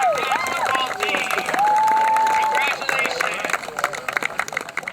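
A crowd at a high school varsity football game claps and cheers for the seniors, with whistles and shouts over a dense wash of applause that thins into scattered claps.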